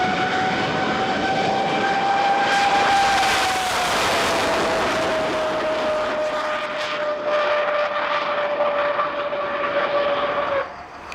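Fast jet aircraft flying by, a loud sustained roar with a bright whining tone that drops in pitch partway through as it passes.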